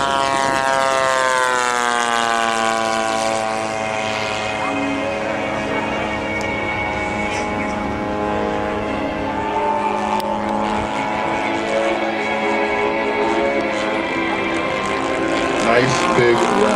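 A P-47 Thunderbolt's piston engine drones loudly and continuously in a flight simulator as the plane flies low, its pitch slowly rising and falling, with faint talk underneath.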